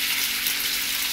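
Turkey bacon fries in a pan with a dense, steady crackling sizzle, close and even throughout the brief moment, with no voices.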